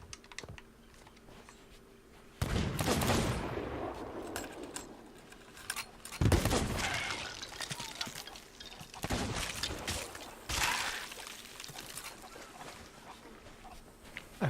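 Gunfire in the pirate video game Sea of Thieves, with sharp loud blasts at irregular intervals over a steady background of game ambience and water, several heavy bursts standing out clearly.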